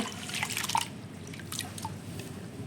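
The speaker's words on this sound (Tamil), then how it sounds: "இந்த கொள்ளு இந்த மாதிரி நல்லா பெசிஞ்சு பெசிஞ்சு இந்த மாதிரி நல்லா கழுவி" Soaked horse gram is washed by hand in water. Soft drips, splashes and wet squishes come in a few close, quiet bursts.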